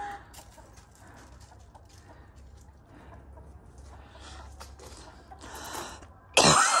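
A chicken clucks faintly in short bursts outdoors in snowy mountain country, with light background noise and a sudden louder clatter at the end.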